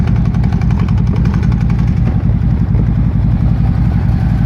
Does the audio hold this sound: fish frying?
no